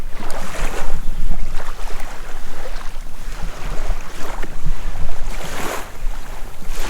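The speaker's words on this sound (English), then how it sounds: "I love the sound of these waves too." Water from a river washing and lapping against a beach shore in rolling surges, mixed with wind noise, fairly loud and continuous with no voices.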